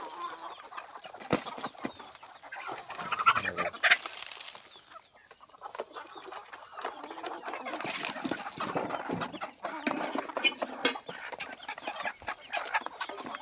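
Free-range country chickens and roosters kept in a small enclosed pen cluck and squawk steadily at moderate distance, with scattered louder calls over a constant busy background.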